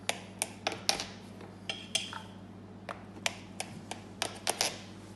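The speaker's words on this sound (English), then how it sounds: "With a knife, just cut it." A knife cuts through a round of soda bread dough on a floured board, giving a series of sharp, close taps and clicks at irregular intervals with no talking.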